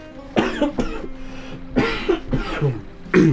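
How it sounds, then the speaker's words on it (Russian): Several harsh coughs in a row, close up and loud, with short pauses between them. "Этот еще кашель у меня, ребят"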